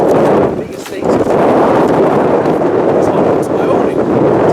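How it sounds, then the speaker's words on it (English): Strong wind buffets the microphone outdoors, a loud, close, continuous roar with one brief lull, and no talking is heard. "It's extremely windy"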